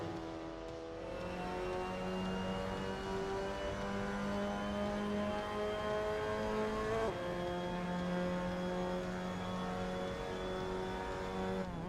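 A Mazda MX-5 Cup car in the Assetto Corsa game laps the Sachsenring, its engine holding a steady high-revving drone that dips briefly with a gear change partway through, then pulls on.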